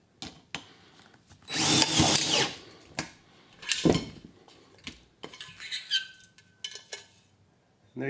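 Self-drilling screws driven into a metal building to fix insulation pins, with short bursts of a power drill whining, loud metallic clatter and scattered knocks and taps in between, no talk.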